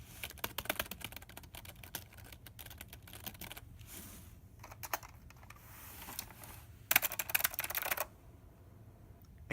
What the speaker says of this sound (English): This keyboard is great for typing, It has a great feel. It has tactile clickiness